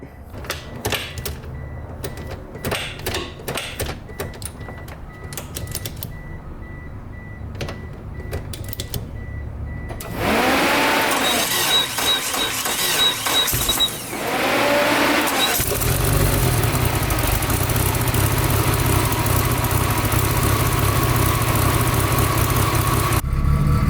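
A second-generation Mitsubishi Eclipse GST begins with scattered clicks and ticks, then the engine fires up and settles into a loud, steady idle close by.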